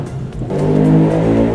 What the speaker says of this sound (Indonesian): Tunggu motor lewat dulu deh.